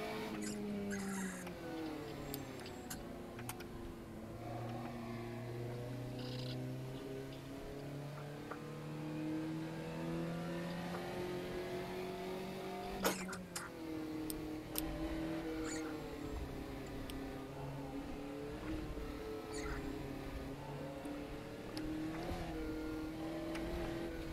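The Puma GTE race car's engine drones continuously in rFactor 2 on the Targa Florio course, rising and falling in pitch as it accelerates, shifts and brakes through corners, with a sharp click partway through.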